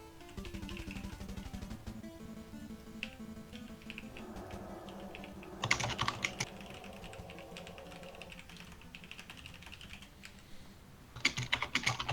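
Close typing on a computer keyboard during an online game session: a steady run of quick, light key clicks with a few harder bursts of smacked keys, and no talk over it.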